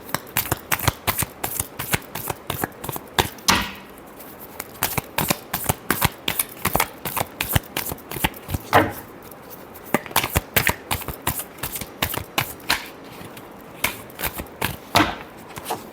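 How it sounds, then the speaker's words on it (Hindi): Tarot cards are shuffled close up in quick, repeated riffling bursts that run steadily throughout, with no voice over them. "Last shuffle."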